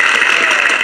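A short, loud burst of applause, dense clapping filling under a second during a casual podcast.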